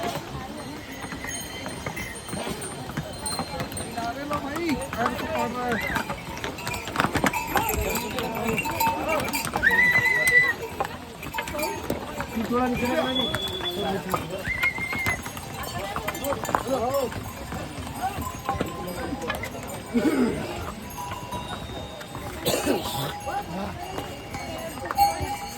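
Horses' hooves clop on the rocky Kedarnath trek path in a steady, continuous patter, with occasional whinnies, heard under ongoing talk and outdoor bustle.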